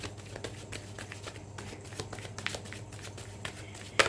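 Tarot cards are shuffled by hand, giving a faint, continuous soft riffling and patter with a sharper slap near the end.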